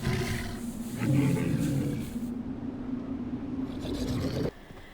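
Cave bear roar from Far Cry Primal, a deep, rough, sustained roar lasting several seconds, loud and close, ending abruptly.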